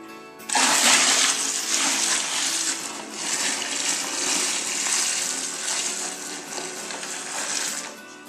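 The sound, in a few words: pouring a pan of water for home brewing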